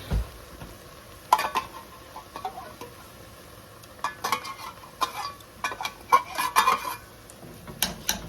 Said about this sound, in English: We're going to add in a can of chicken.